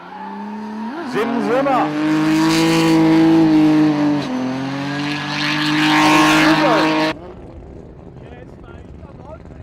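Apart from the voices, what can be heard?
race car drifting at 110 mph, tires squealing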